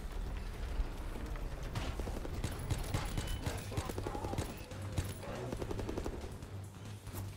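Rapid gunfire from Call of Duty: WWII Nazi Zombies, shooting zombies in dense, continuous bursts of game weapon fire that fill the whole stretch, with a loud busy mix and low rumbling game effects underneath.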